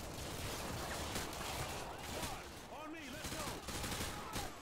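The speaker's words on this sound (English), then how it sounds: "What am I getting shot by?" Rapid bursts of gunfire crackle through a Modern Warfare 2 match, dense volleys overlapping with game noise while a voice speaks over the chaos.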